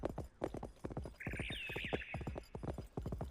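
Horse hooves clip-clopping steadily in a Wild West survival game, a close, rhythmic trot of sharp knocks with a brief whinny rising in the middle.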